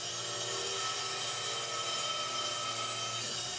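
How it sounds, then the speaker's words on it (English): A 6-inch length of 1x wood board being sawn, a steady continuous rasp of blade on wood running close and even throughout with no pauses or talk. "Now I'm going to cut that 6-inch piece."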